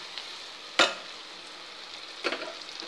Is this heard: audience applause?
no